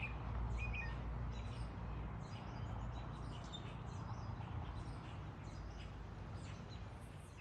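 Small bird singing in a garden on an evening, faint scattered chirps and short tweets over a steady low background rumble, with no voices.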